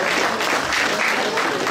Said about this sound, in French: Donc on peut vraiment les applaudir.